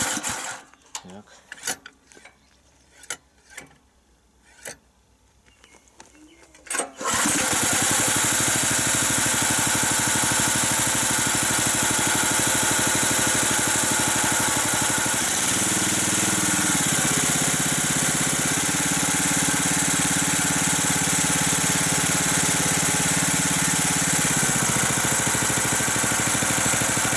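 Replacement engine on a Czech MF-70 walk-behind mower idles steadily and loudly after a few sharp clicks and pulls, a continuous close-up drone with a slight shift in pitch partway through.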